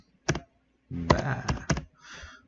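Short bursts of keystrokes on a computer keyboard, a couple of quick clicks followed by a rapid run of typing, close and clear in a quiet room.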